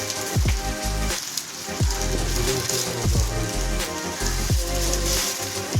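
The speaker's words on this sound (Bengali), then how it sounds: "জোরেই তো পড়ছে।" Heavy rain comes down outdoors as a continuous wash of patter, overlaid by repeated tonal, sweeping sounds that rise and fall every second or so.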